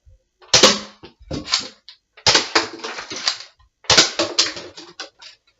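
Nerf guns shot as fast as possible, bursts of rapid clacking snaps in three quick clusters with short gaps between them, close and fairly loud.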